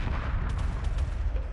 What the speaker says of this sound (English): That's my little flagships taking light enemy fire.